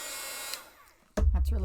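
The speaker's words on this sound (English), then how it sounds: "let me dry this really quick" A hair dryer blowing to dry a junk journal page, a sudden loud close whoosh that starts abruptly near the end after a quieter stretch.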